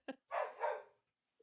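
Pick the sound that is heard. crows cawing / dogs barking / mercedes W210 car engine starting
dogs barking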